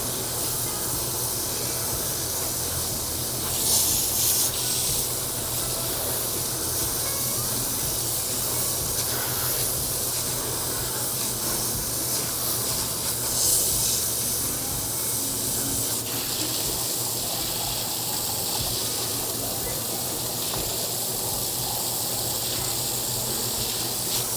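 Water spraying steadily from a hose onto a spa filter being washed, a continuous loud hiss close by with slight swells in intensity and no talking.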